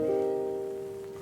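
A single soft piano chord played on a MIDI keyboard, struck once, its sustained tones ringing evenly and slowly fading, heard alone without talk.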